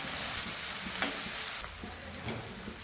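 Sliced onions and green chilies sizzling in a pan for onion sagu, a soft continuous frying hiss with faint stirring scrapes, close and fairly quiet.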